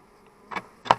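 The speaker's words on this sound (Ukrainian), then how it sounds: "квіточки цвітуть, бджоли збирають" Honeybees buzz at an open beehive, heard as two short, close buzzing bursts about a third of a second apart against a quiet background.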